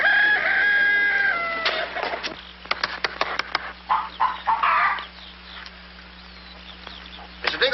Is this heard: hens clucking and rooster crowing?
yes